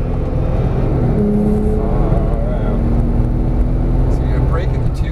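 Porsche 911 Turbo S accelerating after an upshift on a coned driving course, a loud continuous engine drone with a rising tone, heard under a voice giving instructions.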